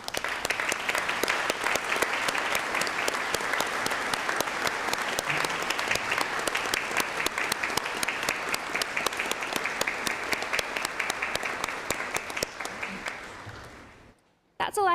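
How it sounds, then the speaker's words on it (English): A graduation ceremony audience applauds with loud, dense, sustained clapping that fills nearly the whole stretch, then fades out abruptly near the end. "join me in a round of applause to thank everyone who has helped us get here today"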